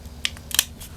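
A wire stripper's cut function snipping through electrical wire, giving a few short, sharp snips spaced across about a second, close and fairly quiet with no talking.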